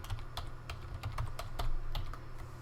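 Quiet keystrokes on a computer keyboard as a password is typed, a run of soft irregular clicks close by over a low background hum, with no talking.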